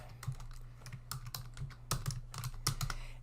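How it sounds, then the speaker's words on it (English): Fingers tap a computer keyboard in a quick, uneven run of sharp clicks, with a few louder keystrokes, heard close and alone. "I can go ahead and I can type in California Gold Rush"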